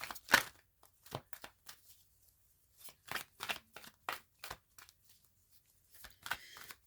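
Tarot cards being shuffled for a card reading, a quick series of crisp riffling bursts and soft flicks in short irregular clusters, close and fairly quiet against a silent background.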